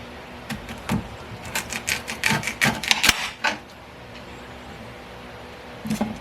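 A knife cuts a freshly harvested kohlrabi into thirds. About a dozen crisp, close crunching cuts come in a quick irregular burst, then a pause, and one last cut follows near the end.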